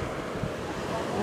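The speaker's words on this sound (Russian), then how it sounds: "Море разбушевалось сегодня." Stormy sea surf rolling onto a beach at Batumi during a high tide, a continuous rough wash of waves mixed with wind buffeting the microphone, with no talking.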